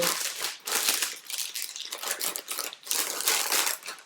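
Plastic bag packaging crinkles and crackles as it is folded around dog waste, close and fairly loud in bursts of rustling that pause briefly between handlings.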